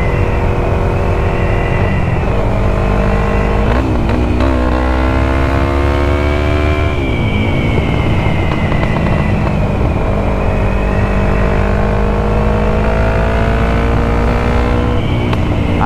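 A Yamaha MT-03 motorcycle with its exhaust revs repeatedly, loud and close, with rising and falling engine pitch and a rough, misfiring sputter through the throttle blips, alone without voices.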